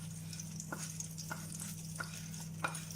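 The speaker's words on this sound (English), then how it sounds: "We will let the biryani spices cook on the medium heat for a few minutes till the water is dry." Biryani spices simmer in a pan over medium heat with a steady soft sizzle, broken by a few faint regular taps from stirring.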